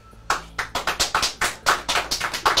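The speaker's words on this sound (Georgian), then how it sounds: "ტაში" A short burst of applause: roughly fifteen crisp hand claps in a fairly even rhythm, close and clear, with no voices over them.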